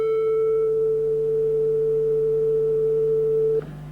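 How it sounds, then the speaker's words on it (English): A synthesizer tone filtered down to a nearly pure sine wave hums loud and steady for several seconds, then cuts off abruptly near the end, leaving a faint lower hum. "As we filter that off, subtracting all the top harmonics, once again what we approximate is a sine wave in both sound and waveform."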